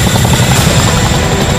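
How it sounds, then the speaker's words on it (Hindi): Heavy military Chinook helicopter heard close and loud, a steady dense rotor and engine roar with a thudding low pulse that fills the whole moment without pause. "चिनूक हेलीकॉप्टर की मदद से युद्ध में हथियारों को पहुंचाना आसान होता है।"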